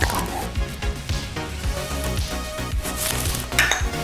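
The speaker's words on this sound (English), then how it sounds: "Now once it's all mixed together, we're gonna add our milk." Milk poured into a pan of melted butter and cocoa powder, with a busy, close sizzle and repeated clinks and knocks of utensil against pan throughout, no speech.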